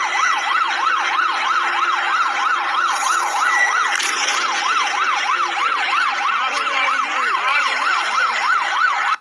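An ambulance siren in Nepal wails in a rapid rising-and-falling cycle, loud and close, over street traffic noise.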